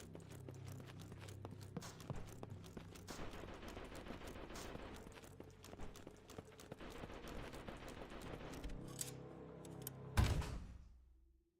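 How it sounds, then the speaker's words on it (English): Howitzer shells fire in a war video game, a faint, dense stretch of rumbling gunfire and bursts that ends in one sharper, louder blast before cutting off. "Howitzer shell."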